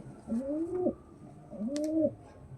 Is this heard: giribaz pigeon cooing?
yes